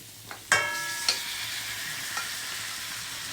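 Pork chop pieces, fried earlier, and sliced onion hit a hot pan with a sharp clatter, then sizzle steadily and up close, with a couple of light scrapes from stirring.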